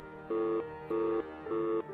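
Telephone tone after a call ends, three steady electronic beeps evenly spaced and fairly quiet, with no voices.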